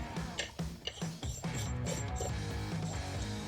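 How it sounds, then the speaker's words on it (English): A locking nut is spun onto the brake rotor of a Harley Sportster tracker motorcycle during a chain drive conversion, giving close, rapid metallic clicking and ratcheting that rattles on unevenly for a few seconds. "And then we're gonna put this locking nut, spinning on right now."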